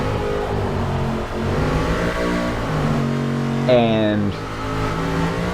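A 1964 Impala engine revs hard in first gear against the rev limiter on a racetrack at night, its drone climbing in pitch with stuttering cuts at the top, loud and close under a voice.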